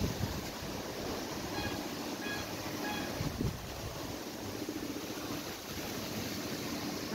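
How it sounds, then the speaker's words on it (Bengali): Strong wind gusts under dark clouds just before rain, producing a loud, continuous rushing roar that buffets the microphone, with brief faint tones in the background. "প্রচন্ড বাতাস"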